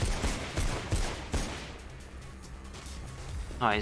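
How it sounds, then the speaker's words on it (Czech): Bursts of rapid gunfire in the video game Mirror's Edge crackle in the distance with sharp reports and a lingering rumble, then a voice briefly cuts in at the end. "Já nevím, odkud po mě střílí, tamhle."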